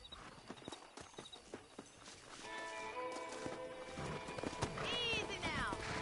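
Horses in the Western video game Red Dead Redemption during a wrangling scene: clopping hooves and rising whinnies at moderate level, with a neigh near the end over soft ambient background.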